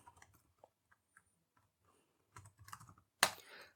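Sparse keystrokes tap on a computer keyboard while an IRC command is typed, then a quicker flurry of clicks follows and ends in a firm, louder key press like Enter. The sound is close and quiet, with no talking.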